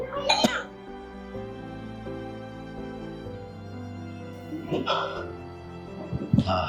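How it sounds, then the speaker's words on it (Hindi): Several sharp coughing fits break out at intervals over a background of soft music, close and loud against the quieter stretches between them. "कैसे उठ गई एकदम से खांसी तुम्हारी?"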